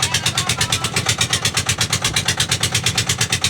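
A boat engine runs close by with a fast, steady, pulsing chug that keeps an even rhythm throughout.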